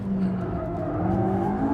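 A McLaren 675LT slides fully sideways onto a straight, its tires squealing under a loud, strained engine note that holds steady through the brief moment.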